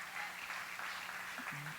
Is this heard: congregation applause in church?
yes